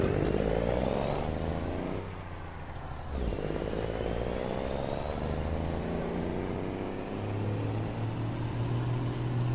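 A heavy N14 diesel truck engine idles and revs nearby, a deep low drone with rising pitch as it accelerates, briefly dipping before picking back up.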